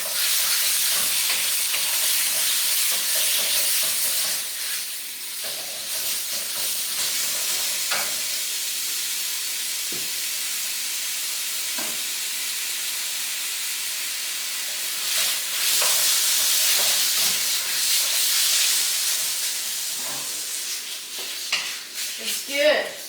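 Beef seasoned with salt and sugar sizzles steadily in hot vegetable oil for a Thai red curry, a dense frying hiss with occasional stirring scrapes and soft voice murmurs in the background.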